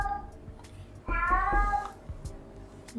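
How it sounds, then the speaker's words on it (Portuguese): A domestic cat meows once in a drawn-out, wavering call lasting under a second, loud and close, with faint room noise and soft thumps before and after. "Só uma pausa que o gato tá miando muito aqui, calma aí."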